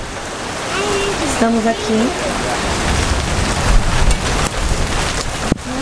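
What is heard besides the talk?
rain falling at night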